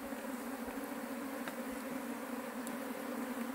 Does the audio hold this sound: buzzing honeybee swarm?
yes